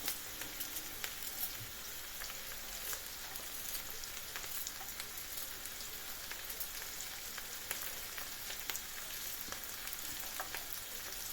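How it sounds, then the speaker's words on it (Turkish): Diced carrots sautéing in a hot copper pan, a steady even sizzle and crackle throughout with faint stirring, close and continuous, no talking. "Havuçlarımı da biraz kavuracağım."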